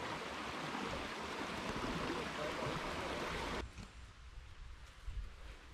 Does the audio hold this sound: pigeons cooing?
no